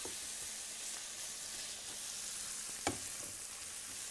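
Sausage fries with garlic, pepper and onion in a pan, making a faint, even sizzle with one brief stirring knock partway through.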